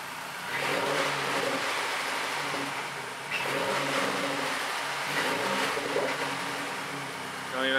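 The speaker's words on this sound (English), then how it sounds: "Do a little bit of a rev." A car engine being revved during a head gasket test, swelling and falling a few times at moderate volume close by, with background noise and someone talking over it.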